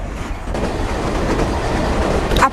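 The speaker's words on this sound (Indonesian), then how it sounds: "Aku juga menjalankan kereta lain di jalur yang sama." Train running on rails in the Boruto anime, a loud, continuous rumbling clatter of wheels on track with a brief squeal near the end.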